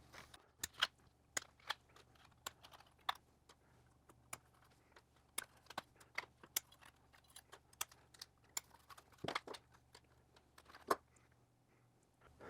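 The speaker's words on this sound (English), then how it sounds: "cut all of the zip ties up here on the gantry" Scissors or snips cut through zip ties on the gantry of a Bambu A1 3D printer, giving sharp, separate snips spaced irregularly and close to the listener over a quiet background.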